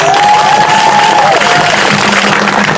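A crowd at an outdoor anti-ICE march in Morgan Hill, California, applauds and cheers to welcome a speaker, a steady wash of clapping and voices with a high whistle-like tone rising and fading early on.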